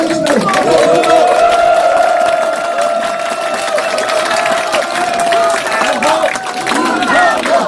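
An audience at a lecture event in Cheonan's football centre gives warm applause and crowd noise welcoming a National Assembly member to the stage, a steady wash of clapping with a sustained tone and voices mixed in throughout.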